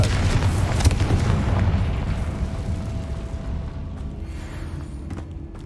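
A Confringo blasting spell goes off in Hogwarts Legacy as a heavy, booming explosion with a deep rumble. It decays over several seconds into a low, fading roar, loud and alone.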